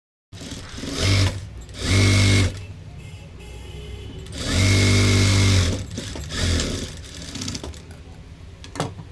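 A sewing machine stitches the fitting seam on the other side of a blouse, running in several short bursts of loud, steady whirring separated by pauses, close by, with no talk.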